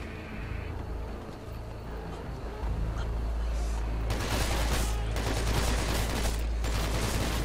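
Gunfire in the video game Hatred while shooting near a wall: a low rumbling bed gives way to a loud, steady stretch of rapid shots and heavy reports filling the second half.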